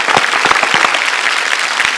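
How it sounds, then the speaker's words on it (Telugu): A studio audience of children claps for a student performance on a Telugu TV game show: steady, close applause with many overlapping hand claps lasting the full two seconds, no talking. "ఒకసారి వాళ్ళకి గట్టిగా క్లాప్ కొట్టాలి బాయ్స్ అండ్ గర్ల్స్"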